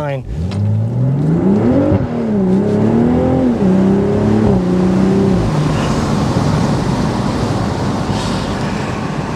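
A 2024 BMW Z4 M40i accelerates hard on a test drive, its engine note climbing through rising revs with quick shifts, loud and close, before settling into a broad roar of road and wind noise.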